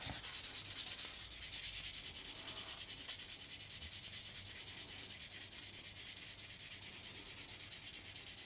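Bone being buffed to a shiny finish on a heavy bench grinder, giving a continuous close hiss and whir that stays steady and unbroken throughout, with no voices.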